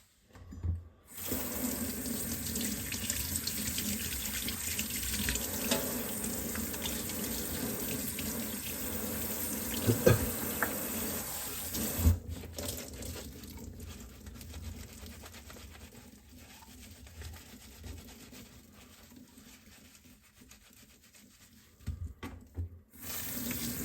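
Water runs from a kitchen tap for about twenty seconds as a part of a DeLonghi Magnifica coffee machine is rinsed under it, a steady close hiss with occasional splashes and knocks before it shuts off.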